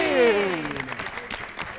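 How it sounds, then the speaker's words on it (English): A voice trails off and a studio audience responds with a short burst of scattered clapping to welcome a guest, Mr. Maclean, onto a talk show. "Shall we give a clap for Mr. Maclean?"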